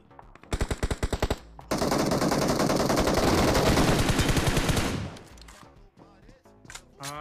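Automatic gunfire rattles in a BGMI match on the Livik map, first as short close bursts and then a long sustained volley of rapid loud shots, which stops abruptly into quieter game sounds.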